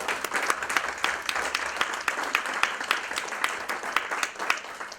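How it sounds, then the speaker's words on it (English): An audience applauds at the close of a talk on oil spills on winter lakes, a steady round of clapping with some sharper individual claps standing out, lasting about five seconds. "could I have a round of applause for them?"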